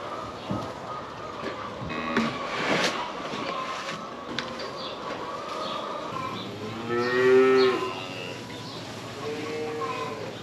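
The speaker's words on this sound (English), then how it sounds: "the cattle are loving those cobs and that leftover greenery. They are surrounding that feeder" Cattle crowd around a feeder loaded with corn cobs and leftover greenery, lowing in repeated drawn-out moos, one loud and close, over steady farmyard background noise.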